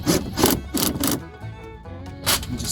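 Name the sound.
2002 Chevy Suburban window rolled up and down after regulator replacement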